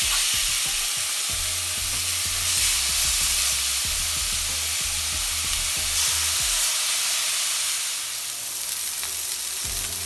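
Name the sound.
chicken pieces with paprika sizzling on a grill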